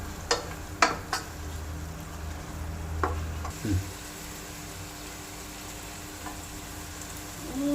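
Ingredients sautéing in a pan for chicken pulao: a steady low sizzle with a few clicks and scrapes of a stirring spoon at the start, close and moderate in level, while a person talks over it.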